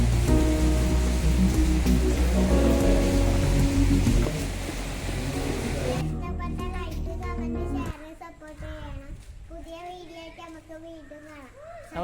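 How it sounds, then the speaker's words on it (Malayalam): Rain falling, a dense steady patter for the first several seconds that thins out, with children's voices and other people talking over it in the latter part. "അതേ സമയം തന്നെ മഴയും പെയ്തു."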